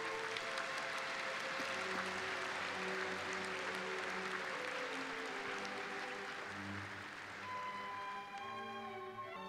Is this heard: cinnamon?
no